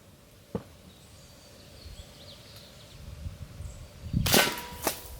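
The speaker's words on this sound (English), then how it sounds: "let's do some target shooting" A Glock 17 Gen 5 CO2 blowback .177 pellet pistol fires during target shooting: one sharp crack early, then a louder burst of two quick shots near the end, against a quiet background.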